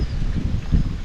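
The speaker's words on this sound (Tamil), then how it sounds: "எப்படி காற்று வீசுது பார்த்தீங்களா?" Strong outdoor wind gusts steadily into the microphone with a deep, rumbling buffet that swells near the end, and no one speaks.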